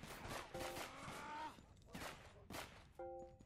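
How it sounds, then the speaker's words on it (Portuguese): Gunfire in the GTA video game: a few sharp broadband bursts scattered through the clip, quiet and set among tonal game sounds. "Quem que tá atirando?"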